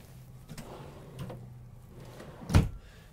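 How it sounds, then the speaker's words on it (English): A big pull-out storage drawer under an RV couch opening or closing, with faint rattles and shuffles before a single sharp knock as it stops. "You'll get your big pull-out drawers underneath your couches."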